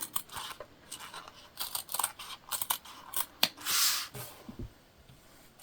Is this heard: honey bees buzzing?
no